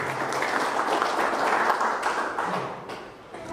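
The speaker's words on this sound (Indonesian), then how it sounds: "Aplaus untuk kita semua." A seminar audience bursts into applause, a dense wash of many hands clapping that swells and then thins out toward the end, with faint voices mixed in.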